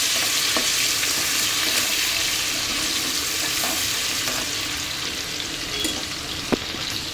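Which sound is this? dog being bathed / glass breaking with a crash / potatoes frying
potatoes frying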